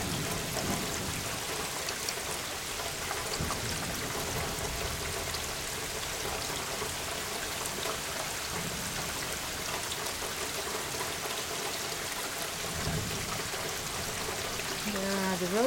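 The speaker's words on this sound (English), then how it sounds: "Behind him, rain." Steady rain pours down during a summer thunderstorm in a garden with roses and bags of cypress mulch, a continuous broadband hiss with trickling and dripping, fairly close and even throughout, with no thunder standing out.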